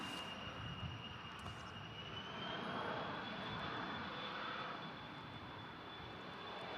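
An airliner at Manchester Airport applies moderate power for a go-around, a steady broad roar of jet engines with a thin whine, continuous and fairly distant throughout.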